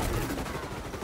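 A short burst of gunfire from the shooter game XDefiant, a rapid muffled crackle of shots lasting about a second, fairly loud and close with no talking.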